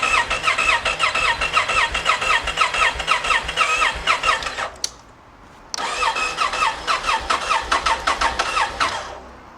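A motorcycle starter cranks repeatedly without the engine catching, a loud rapid whirring chug running about five seconds, a short pause, then another long cranking attempt that also fails.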